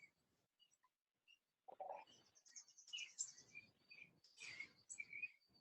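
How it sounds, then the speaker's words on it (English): Birds chirp and trill in short, high bursts outdoors, several calls overlapping, moderately close after a quiet opening moment. "Do you hear the birds chirping around me?"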